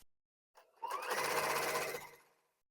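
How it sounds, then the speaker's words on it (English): Sewing machine stitching quilt blocks for a table runner: a faint click, then a short run of rapid mechanical stitching that rises quickly, holds steady for about a second and a half, then winds down and stops. "Sew the white square to the checkered end only."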